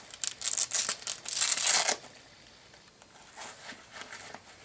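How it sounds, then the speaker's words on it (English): Velcro ripping open on a hat's hidden compartment, a loud close tearing rasp in several quick bursts over the first two seconds, then quieter faint rustles. "Oh, Velcro."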